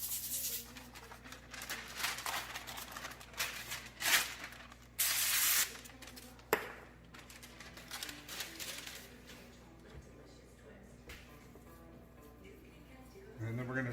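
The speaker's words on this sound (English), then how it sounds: "I'm gonna go ahead and spray both of these with some avocado oil spray." Avocado oil spray hisses onto two pieces of parchment paper in short bursts, with one longer spray in the middle, soft and close against quiet kitchen background.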